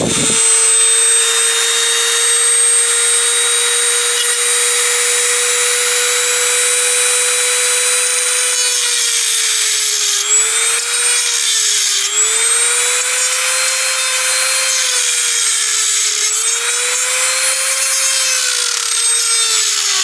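A power tool steadily cuts through the front wall of a Deerc 9201e RC car chassis, a loud continuous whine with a sustained tone that dips and wavers slightly as the cut progresses, with no talking.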